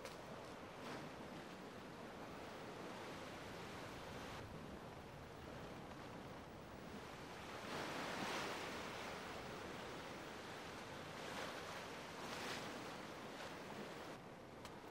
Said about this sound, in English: before the waves get too high.